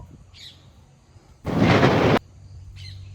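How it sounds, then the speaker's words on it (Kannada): A single thunder crack bursts out loud and broad for under a second against a quiet outdoor background, then fades back to near silence. "ಶ್ರೀ ಲಕ್ಷ್ಮೀ ನರಸಿಂಹ ಸ್ವಾಮಿಗೆ ಕೋಪ ಬಂದಾಗ ಸಿಡಿಲು ಬಡಿದು"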